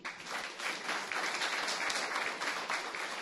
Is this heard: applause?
yes